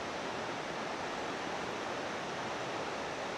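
Fantail Falls, a waterfall on the Haast Pass in New Zealand, gives a steady, dense rush of falling water that holds at an even level throughout, with no voices over it.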